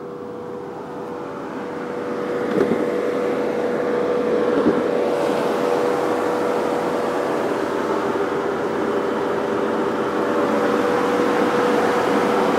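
An Audi RS7 engine, salvaged after an accident, idles steadily after starting, with a constant close hum and a faint tonal whine that rises slightly in loudness early on and then holds.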